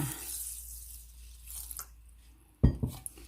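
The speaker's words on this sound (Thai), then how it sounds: "เทน้ำลงไปค่ะ" Water briefly splashes and pours into a pot of sago pearls after a quiet stretch, with a few faint clinks, close and fairly soft.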